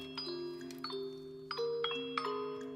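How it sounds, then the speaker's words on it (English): Soft plucked kalimba-like music box melody from Bloodborne's soundtrack, bright bell-like notes struck every half second or so over sustained lower tones, gentle and close with no voices. "Sounds like a soft kalimba."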